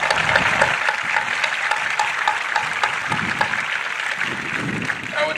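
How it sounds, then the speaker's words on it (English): A high school graduation audience applauds in a large crowd, dense sustained clapping filling the space with a few cheers mixed in. "Please give a round of applause to Dr. Crystal Dowdell and Mr. McCormick."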